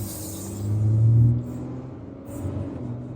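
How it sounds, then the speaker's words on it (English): Ford Everest with its 3-litre V6 engine on the move, a steady low cabin rumble that swells briefly as the engine pulls, then settles back to an even drone with no talk over it. "It's actually my first drive of the 3-litre V6, and it does seem quite responsive, quite smooth"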